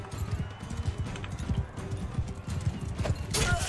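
Horse hooves clip-clop steadily in a battle in Mount & Blade 2: Bannerlord, the quick rhythmic footfalls up close with clashing bursts of combat noise toward the end.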